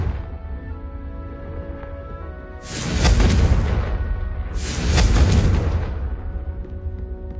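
Two big booming blasts of the Confringo fire spell in Hogwarts Legacy, each a loud roaring burst lasting over a second, a couple of seconds apart over a quiet rumbling background.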